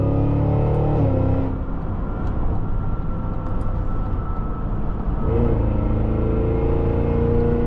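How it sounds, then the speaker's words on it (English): A 2026 Cadillac Escalade-V accelerating hard, its engine rumbling loud and close from inside the cabin, rising in pitch, dropping briefly at a gear change and climbing again as speed builds. "it's crazy how a car of this size is able to just accelerate like this"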